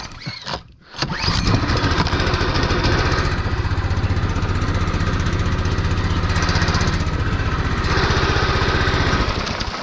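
An old outboard motor on a small fishing boat on the Pechora river sputters to life, then runs loud and close as a continuous rattling drone for several seconds.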